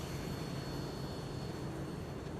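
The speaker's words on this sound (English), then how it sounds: "I love that sound of the engines Bradley." Fighter jet engines spooling up in a film scene, a steady, dense roar with a high whine riding on top, heard fairly faint and unbroken, with no voices.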